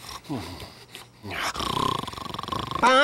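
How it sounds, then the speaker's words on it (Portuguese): Cartoon duck Daffy snoring in a Looney Tunes cartoon, a run of rhythmic rasping snore pulses following a burst of comic vocal noises, ending with a loud sharp sound. "Para, tá roncando."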